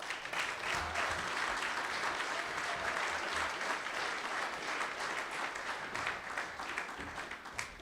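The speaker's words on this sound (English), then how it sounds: "Can you please have a warm round of applause" An audience at a farming conference applauds to welcome a speaker to the stage. The clapping is dense, steady and close, with many hands, and it thins slightly near the end.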